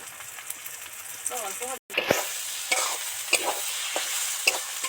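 Soybean mince with a little ghee and garam masala sizzles in a wok, a soft frying hiss broken by a brief cut and then stirring scrapes, close and moderate, with a voice speaking under it.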